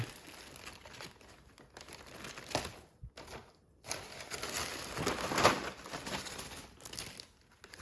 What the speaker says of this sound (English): So I'm going to put them in a paper bag.